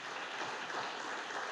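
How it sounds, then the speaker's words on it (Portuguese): Steady applause from a church congregation during an evening service, a continuous wash of clapping at moderate distance with no voices on top. "Você pode aplaudir ao Senhor"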